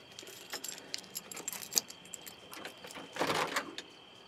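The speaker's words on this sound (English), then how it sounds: "Alright, let's see what keys we got here." Jangling keys being sorted and handled indoors, with repeated bright metallic clinks and rattles close by and a louder cluster of shaking toward the end, no talking.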